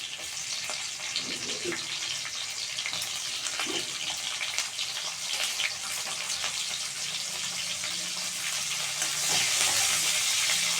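Garlic and onion fry in a pan for a Bengali begun bharta (mashed eggplant), giving a steady hiss and sizzle with occasional stirring scrapes that swell louder toward the end.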